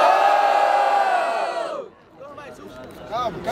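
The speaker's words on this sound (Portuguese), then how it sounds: "Grita pro Chuli, faz barulho" A crowd at a Brazilian freestyle rap battle cheers and shouts loudly and steadily for almost two seconds, then fades as a voice takes over, talking and calling out to the audience.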